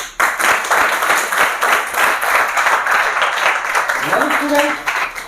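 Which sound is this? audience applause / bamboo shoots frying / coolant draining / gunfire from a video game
audience applause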